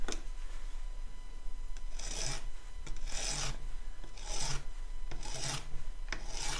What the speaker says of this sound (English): I have this we call it a rasp